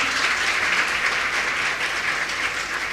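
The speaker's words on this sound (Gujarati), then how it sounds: "એ બંને માટે પણ આપણે જોરદાર ફરી એકવાર તાળી પાડશું" Sustained audience applause at a religious debate event, dense steady clapping from a crowd, loud and continuous throughout with no talk over it.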